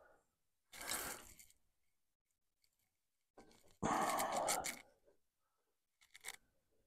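A part is screwed into a Pacycle e-bike trailer with ratcheting, grinding turns in two longer bursts and a short final one, close with quiet pauses between.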